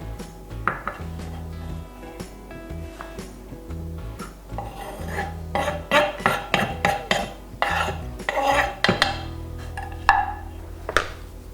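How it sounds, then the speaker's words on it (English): A mezzaluna rocks through parsley on a board in quick, uneven bursts of clicking chops and scraping taps, close and fairly loud. A low background hum runs underneath and no one speaks. "my mezzaluna is proving its worth and making light work of producing finely chopped parsley"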